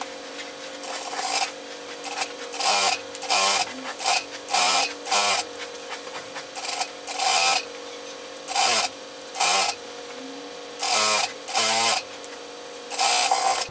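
A sewing machine stitches a pleated skirt in repeated bursts of rapid mechanical whirring, separated by short quiet pauses, close and alone with no talk.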